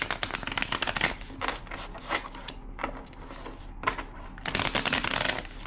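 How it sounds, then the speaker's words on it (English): A deck of tarot cards is shuffled in rapid riffling bursts, crisp papery flutters that come and go in quick bunches, close and fairly loud with no talking. "2 more shuffles."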